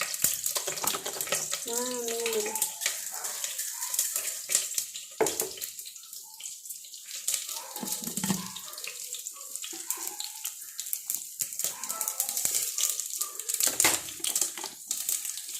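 Water runs from a kitchen tap while cooking, a splashing stream that starts and stops several times, with dish clatter and brief handling noises in between.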